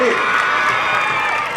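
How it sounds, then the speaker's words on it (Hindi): An audience at an Independence Day school programme applauds and cheers in a dense, steady wash of clapping and children's shouts, loud and continuous. "एक बार और ताली"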